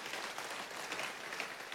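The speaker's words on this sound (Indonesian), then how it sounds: "Tepuk tangannya" A church congregation applauds, a dense, even wash of clapping that carries on steadily, with faint speech mixed underneath.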